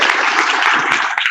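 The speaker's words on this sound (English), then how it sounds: "can we give folks a round of applause for the hard work they're doing?" Applause from attendees at an overdose symposium, a short, steady burst of dense clapping at close range with no voices over it.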